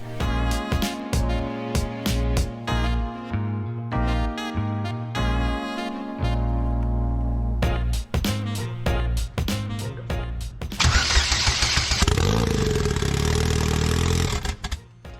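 A rebuilt supercharged LSJ engine cranks in short bursts, coughs and catches, then fires up loud and rough, running briefly before cutting out.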